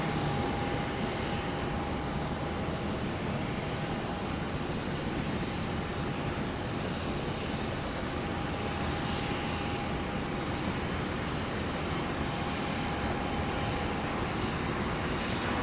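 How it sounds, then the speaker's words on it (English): An aircraft at Minneapolis-St. Paul airport gives off a steady, constant engine roar heard from a distance, with no talk over it. "I love these aircraft with a passion."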